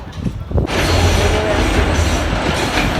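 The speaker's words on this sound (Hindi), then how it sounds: "अभी देखो ये रेल फिर से आ गया दूसरा, ये भी अभी जा रहा है इस पुल के नीचे से।" A train rumbles steadily past at close range under a road bridge on the Malir Expressway, a loud continuous roar of wheels on rails with faint clatter, after a brief quieter moment at the start.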